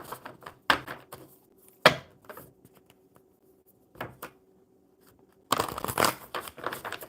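A deck of playing cards is shuffled in quick bursts of riffling and tapping, separated by short quiet gaps, close and fairly crisp, ending in a longer, denser riffle.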